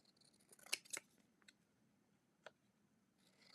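Scissors snip decorative craft paper in a few quick close clicks, a tight double snip followed by a couple of lighter isolated cuts, faint against a quiet room with no talking.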